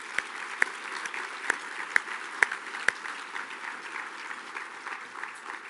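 Audience applause at a prayer breakfast, a steady wash of clapping from a seated crowd with a few sharp, close claps standing out in the first half, holding at an even, moderate level throughout.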